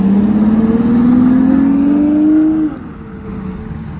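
A Ferrari FF with a modified, non-stock exhaust revs up at a busy hypercar meet, a loud rising engine note climbing for a few seconds before dropping off abruptly as the car passes.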